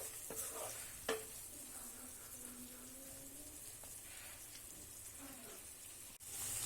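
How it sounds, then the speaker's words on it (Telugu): Ginger garlic paste frying with onions in a pan, a soft, continuous sizzle with occasional stirring scrapes and clinks of a utensil against the pan, fairly quiet and close. "ఆనియన్స్ వేగిపోయిన తర్వాత మనం ఇందులో జింజర్ గార్లిక్ పేస్ట్ వేసి ఆ పచ్చివాసన పోయే వరకు మనం అల్లం వెల్లుల్లి పేస్ట్ని ఫ్రై చేసుకున్నాం."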